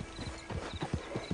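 Horse hooves clip-clopping at a steady walking rhythm in the Red Dead Online video game, about eight close, moderately loud footfalls with no talk over them.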